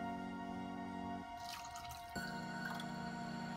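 Canyon water poured into a glass for an alkaline water demonstration, heard as a short stretch of splashing and dripping over a steady low hum, fairly quiet and close.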